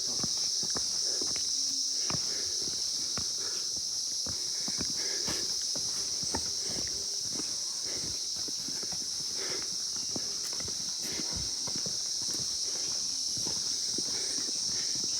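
Mules walk along a mountain trekking trail, their hooves giving a steady, faint clip-clop under a constant high whine of insects. No one speaks.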